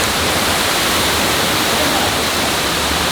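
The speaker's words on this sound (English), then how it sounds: "Just made it to the waterfall, and wow guys, this is stunning." The Tamanique waterfalls in El Salvador pour down in a loud, unbroken roar of falling water, dense and steady from start to end, heard up close with nothing else standing out.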